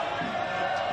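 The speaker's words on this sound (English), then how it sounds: "Crowd still having a bit of fun with Jack Duncan, but he's not looking too flustered" A football stadium crowd at an Australia Cup 2024 Round of 16 match between NWS Spirit and Melbourne Victory keeps up a steady, distant roar of cheering and jeering throughout.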